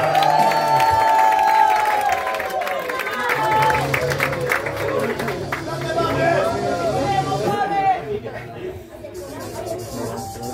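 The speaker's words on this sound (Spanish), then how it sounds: "Pamela también quiere un aplauso fuerte para ella." Crowd applause and cheering at an improv competition grand final before a drag lip sync, energetic clapping and shouts mixed with music and loud voices talking over it, easing toward the end.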